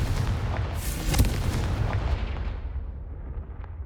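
A Confringo blast spell in the video game Hogwarts Legacy produces a loud booming explosion with a sharp crack near the start, then a deep rumble that slowly fades, and no speech is heard.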